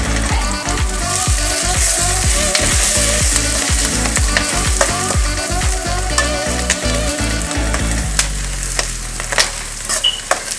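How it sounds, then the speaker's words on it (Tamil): Onions and curry leaves sizzle and crackle in hot oil for a village-style fish gravy, with a spoon stirring and scraping the pan in steady repeated strokes; the frying settles to a softer continuous hiss near the end. "பாருங்கள், வெங்காயம் வதங்கிடுச்சு."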